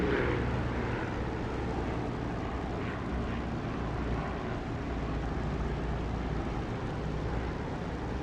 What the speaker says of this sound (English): Listen for the increased volume when I get near to the runway, as reflected sound comes back up at me and makes the engine sound louder